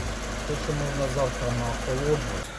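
Lexus LS460 engine idling with a steady low hum and mechanical whir, heard under someone speaking.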